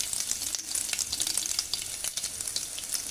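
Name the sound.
dried red chili frying in oil for rasam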